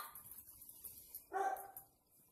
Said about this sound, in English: Here's my dog right here. This is one of my dogs.